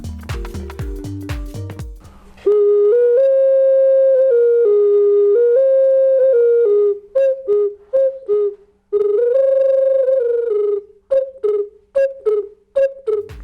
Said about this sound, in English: Pay attention that this whistle svyshik in Ukrainian is large enough.